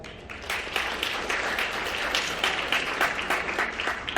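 Wedding guests applaud steadily at a Korean wedding ceremony, a dense, continuous patter of many hands clapping at moderate volume without talk.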